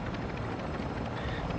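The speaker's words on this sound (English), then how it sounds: "The helicopter's above you." A helicopter hovers overhead in the video game Call of Duty DMZ, a dense, continuous rotor roar that stays loud and steady throughout.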